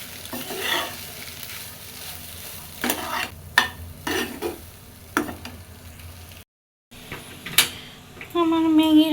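Packet masala being stirred into Maggi noodles in a pan in a home kitchen, giving a few scraping, clattering stirs under a low sizzle, with a brief break and then a steadier cooking hiss.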